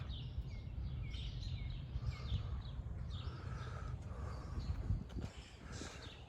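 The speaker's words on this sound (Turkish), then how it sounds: "Kuş seslerini duyuyorsunuz inşallah" Birds chirp and tweet in short bursts outdoors on a dead-end residential street in America, fairly faint over a steady low rumble of distant traffic.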